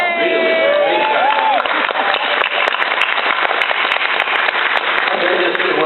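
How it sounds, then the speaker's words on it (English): Audience applause at a Battlestar Galactica convention panel at Dragon*Con: a loud, dense wash of clapping and cheering from a large crowd, sustained steadily for several seconds. "Give yourself a round of applause."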